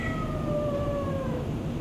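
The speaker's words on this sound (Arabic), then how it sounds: "شوفوا قطوي الجديد" A newly acquired pet cat meows in one drawn-out, falling call lasting nearly two seconds, close and clear over a steady low background hum, with no talking.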